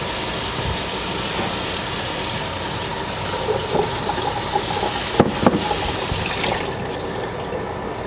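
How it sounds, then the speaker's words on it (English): Cauliflower being rinsed under running tap water, a continuous broad rushing splash of the faucet, steady and close, with a few brief knocks of handling partway through. "So what I'm going to do now is wash the cauliflower,"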